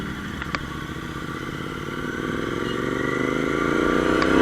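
A motorcycle engine hums steadily during a Sunday ride, rising gradually in pitch and loudness as the bike accelerates, heard up close with a couple of faint clicks early on.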